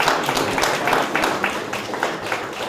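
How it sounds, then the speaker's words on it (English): Audience applause at an outdoor groundbreaking ceremony for a development site, a steady wash of many hands clapping at moderate distance, continuous and even for the whole span. "Can we all give them a round of applause?"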